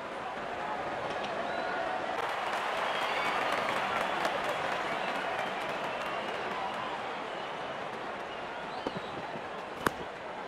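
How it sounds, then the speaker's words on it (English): Steady roar of a large crowd cheering and applauding in the Cricket 22 video game during a Pakistan vs India match, a dense continuous wash of clapping that holds loud throughout with a sharp spike near the end. "cheered by a good crowd in."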